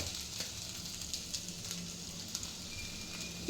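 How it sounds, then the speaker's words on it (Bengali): Already-fried soybean chunks crackle softly in a pan during a quick stir-fry with salt, a faint steady sizzle with occasional light ticks of stirring and no speech. "এবার এটাকে একটু ফ্রাই করলাম"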